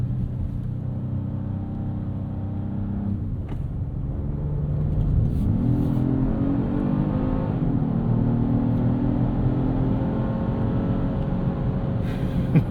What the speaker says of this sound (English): Come into this corner here. Look at that downshift.